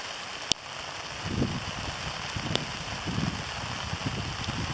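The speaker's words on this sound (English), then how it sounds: "Soft hail for sure." Soft hail (graupel) pattering down during a November wind storm, a dense, steady rattle of small pellets with gusty wind noise underneath and a couple of sharp knocks, no voices.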